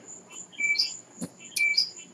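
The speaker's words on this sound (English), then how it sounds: "this bird chirps all night" A lone bird chirps at night, a few thin high-pitched calls repeated in two short bursts against a quiet background, with a brief low thump between them.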